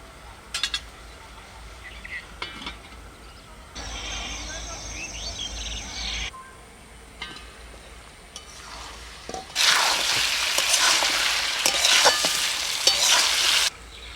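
Mutton sizzling and frying in a pan with occasional stirring, the sizzle swelling loudly in bursts between quieter stretches.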